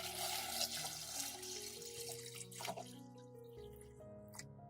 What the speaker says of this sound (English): I fill the pot with water to cover the eggs.